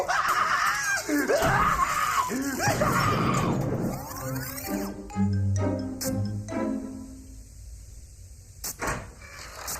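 Several voices scream and shriek loudly in overlapping bursts through the first half, then give way to groans, knocks and scattered clattering that fade lower toward the end.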